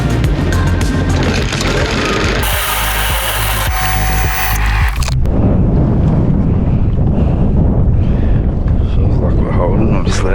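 Strong wind buffets the microphone over open water in Western Port, a constant roaring rush with water noise beneath and a voice speaking at times.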